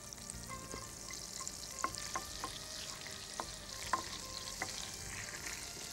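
Garlic and green chillies sauté in melted butter in a pan, a soft continuous sizzle with scattered clinks and scrapes as a utensil stirs them, quiet and close with no talk.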